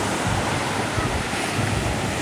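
Sea waves wash steadily onto a sandy Caribbean-style beach with small one-to-two-foot surf, a continuous broadband roar with gentle surges and some wind buffeting the microphone, no talking.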